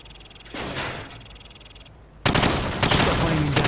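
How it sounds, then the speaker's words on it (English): Rapid automatic gunfire from the hip at targets in Call of Duty 4: Modern Warfare on Xbox One, two loud sustained bursts separated by a short silent gap, the second burst heavier and harsher. "Now, shoot at the targets while firing from the hip."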